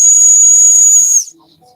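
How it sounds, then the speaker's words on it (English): A whistle blown hard gives a single loud, piercing, steady shrill tone lasting just over a second before cutting off, with faint traces afterward. "That whistle only calls skinwalkers to your location."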